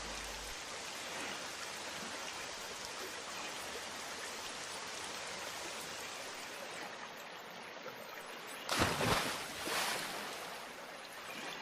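Steady rain pours in a Bengali cartoon scene, a dense even hiss throughout with a brief louder splash burst near the end.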